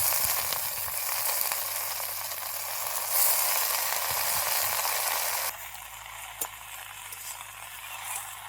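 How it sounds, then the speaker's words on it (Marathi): Green chillies frying in oil in a pan for a vegetable dish, a continuous close sizzle and crackle that drops quieter partway through, with a sharp click near the end. "मिरच्या पण मस्त तळून घ्यायच्या आहेत"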